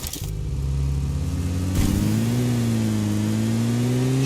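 A car engine in PUBG Lite on the Miramar map revs and climbs steadily in pitch after a short shift, sounding loud and continuous without any talk.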